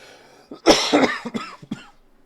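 A burst of harsh coughing, several rough hacks in quick succession, close and fairly loud, trailing off into quieter breaths.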